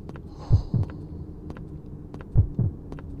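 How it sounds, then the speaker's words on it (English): A slow, heavy heartbeat in a video game, in two paired thumps, loud and close over a low droning hum, with faint high whispery tones drifting in the background. "The constant noise, you know, the heartbeat and the whispering just makes you think there's something there."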